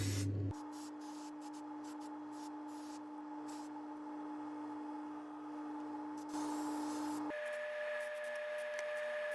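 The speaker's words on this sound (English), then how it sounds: "We apply a release agent to all working parts." Release agent is sprayed onto the working parts of a mold used for casting plastic machine parts: a steady, close hiss with a faint tonal hum, briefly broken and then changing pitch near the end.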